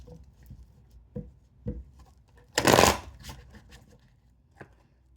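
Tarot cards are shuffled close by, first as a few soft taps and then as one dense riffling burst in the middle, with a faint tap afterward.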